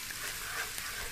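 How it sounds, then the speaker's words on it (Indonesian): Lemongrass stir-fries in a pan, a continuous soft hiss of sizzling oil with faint stirring scrapes, quiet and close for a brief moment. "Ini kita masukkan serehnya. Tah, serehnya kita tumis, kita aduk-aduk."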